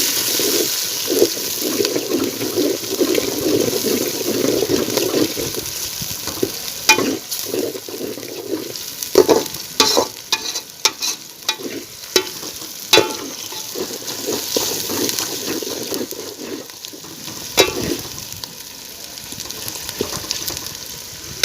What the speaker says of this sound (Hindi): टमाटर 2 से 3 टमाटर और 6-7 ये हरी मिर्चें, ये हम डाल के इसे अच्छी तरह भूनेंगे